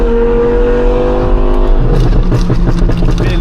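An Audi R8 with a V10 engine and aftermarket exhaust revs hard and loud, a steady harmonic drone climbing into a rasping, crackling roar.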